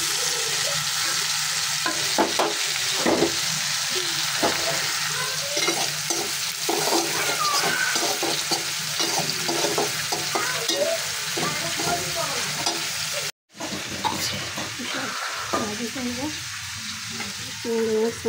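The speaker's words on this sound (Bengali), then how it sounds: "তেলের মধ্যে হলুদ আর লবণ দিচ্ছি, ভাতটা থাকে না, এই জন্য ভাজি।" Shrimp with onion and chili fries in oil with turmeric and salt, a steady close sizzle with frequent scraping and stirring knocks and a momentary break partway through.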